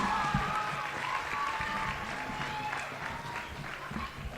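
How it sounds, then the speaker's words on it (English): A community audience at a Putnam Valley evening event applauds itself, a sustained mid-distance clapping that slowly tapers, with a faint background murmur and a few sharp whistle-like tones early on. "give yourselves a huge round of applause for coming out tonight"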